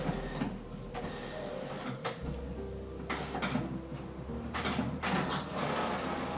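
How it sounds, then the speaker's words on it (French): A home printer runs through a test page with a steady mechanical whir and scattered clicks and paper-feed clatters, fairly quiet and with no talking. "imprimer une page de test"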